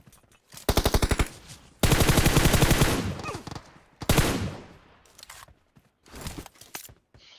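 Rapid bursts of automatic gunfire in a battle royale shooter, with short rattling volleys separated by brief gaps, then a long sustained stretch and scattered shots near the end. The shots sound close and loud, with no talking over them.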